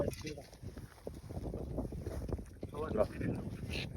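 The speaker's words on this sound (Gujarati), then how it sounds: "વાયરો થોડો વધારે એટલે આપણે વિડીયો બંધ કરશું" Strong wind buffets the microphone in steady gusts, with people talking underneath the rushing noise.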